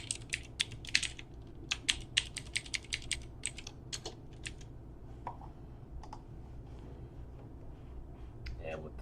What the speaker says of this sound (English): we're gonna type in ECMASCRIPT